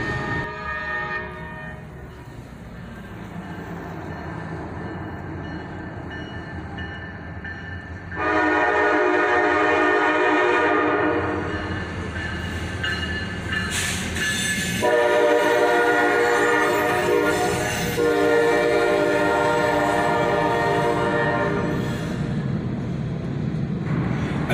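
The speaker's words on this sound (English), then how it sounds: "A pair of SD43 rebuilds lead a southbound manifest train." A southbound CSX manifest train led by a pair of SD43 rebuild locomotives passes close by, sounding loud, repeated horn blasts over a heavy, rumbling roll of engines and wagons.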